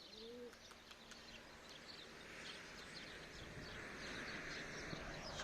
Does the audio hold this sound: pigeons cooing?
yes